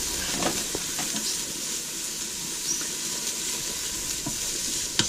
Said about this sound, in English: this is a whole onion that we have chopped into small pieces, and we're going to saute that for a few minutes